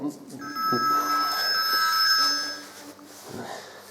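A telephone rings with a bright, repeating electronic warble, fairly close and loud, holding for about two and a half seconds before fading, while a person talks over it in the room.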